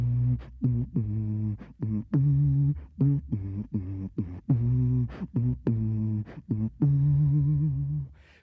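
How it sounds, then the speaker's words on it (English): A bass guitar plays on an outdoor event stage, a series of plucked low notes in a bouncy, uneven rhythm, each note short with clear attack and brief decay, loud and alone. "And the bass guitar sounds like this."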